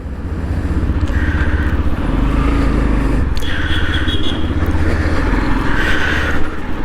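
A Yamaha FZ-X motorcycle pulls away and rides, its engine a steady loud drone with rising gear tones and rumbling road and wind noise.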